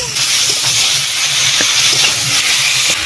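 Boiled, shelled plantains go into a hot pan with fried prawns and potatoes in a village kitchen, giving a steady, loud hiss and sizzle of oil that runs unbroken, with a few faint knocks and no talking.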